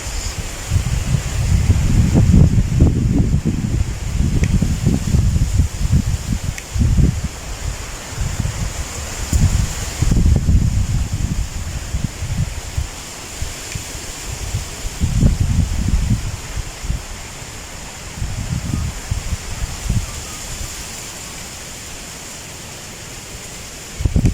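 Wind rushes steadily through leaves outside a house in the countryside, with gusty low swells rising and falling over a constant airy hiss for the whole stretch, no voices.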